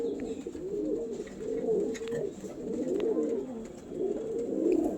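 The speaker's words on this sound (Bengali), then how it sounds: "এবার তোমাদেরকে শখ করাচ্ছি আন্ধা লালশিরা মেল পিজন" Close, rhythmic cooing from an Andha Lalshira male pigeon, several soft throaty rolls in succession with only faint room noise beneath.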